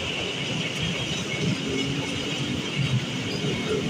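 Passenger train with a luxury carriage passing near Jatinegara station, a loud continuous rumble and rolling wheel noise throughout, with a faint voice in the background.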